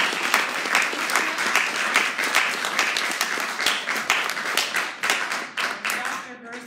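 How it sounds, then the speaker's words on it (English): An audience at a lecture on bad medicine claps for the speaker in a thick, continuous burst of applause that holds strong for several seconds and then thins out with a few scattered final claps. "let's give her an awesome round of applause"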